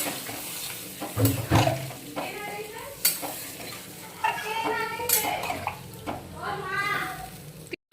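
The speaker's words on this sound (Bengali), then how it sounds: "এবার আমরা জলটা দিয়ে দেবো" Water is poured into a pot of cucumber curry with fish cooking on the stove, giving a close splashing pour over steady sizzling, with a few sharp clatters and some voice-like sounds in between.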